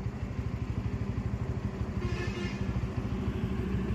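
An N160 motorcycle riding along the Delhi-Kolkata highway, its engine giving a steady low rhythmic thrum that stays loud and close throughout, with wind noise layered over it.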